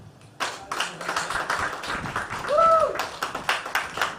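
Scattered clapping from a small workshop audience at a farm project opening, uneven bursts of hands starting abruptly and continuing at moderate volume, with a brief whistle or voice partway through.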